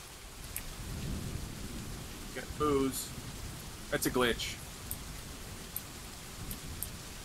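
Steady rain hisses with a low rolling rumble of thunder early on in the video game Dwarf Fortress, while someone speaks a few words over it.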